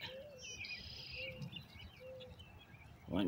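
Birds chirp and call in a flooded park by a river and artesian well in Wisconsin, with thin high tweets and a few short mid-pitched calls over faint outdoor hiss and low rumble, ending with a brief louder noise.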